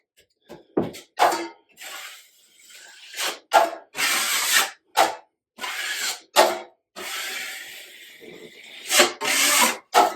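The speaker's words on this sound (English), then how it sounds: "I actually have enough to kind of skim out that side." A drywall knife skims Durabond setting compound over drywall tape, making short scraping strokes in bursts separated by brief pauses, close and fairly loud.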